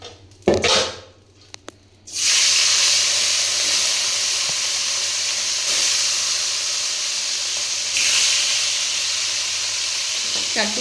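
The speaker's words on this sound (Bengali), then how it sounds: "এই তেলে মাছগুলো সব ভাজি।" Fish pieces drop into hot oil already darkened from frying yardlong beans and set off a loud, steady, close sizzle that starts abruptly after a quiet moment and keeps hissing without letup.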